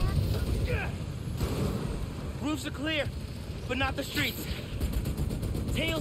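Gunfire during a street battle in Spider-Man: Miles Morales on PS5, with machine-gun bursts and a tank mixed with steady engine rumble, while voices talk over the fighting.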